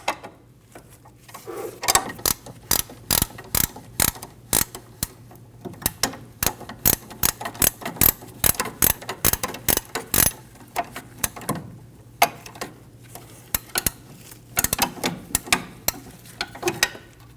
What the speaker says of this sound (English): Using an 18mm wrench, we're going to get on the nut.